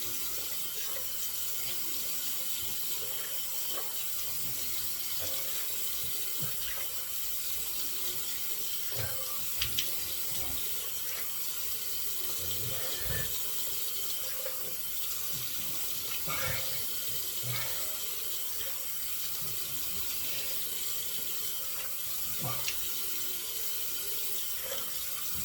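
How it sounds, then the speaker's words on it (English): Hot water runs steadily from a tap into a sink to rinse lather off, a continuous close splashing hiss with small clinks and handling sounds throughout. "We'll go with hot water to get the lather off here."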